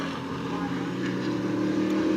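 Race cars in a Ground Pounders heat race at New Smyrna Speedway drone with a steady engine roar that builds slightly as they run through the corners, with a commentator talking over them.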